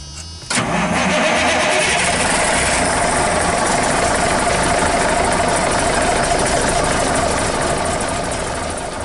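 Equipment engine fitted with a ColdFire block-warming starting system cranks briefly and catches, then settles into a loud, steady idle that holds for the rest of the clip.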